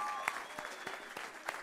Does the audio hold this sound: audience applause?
yes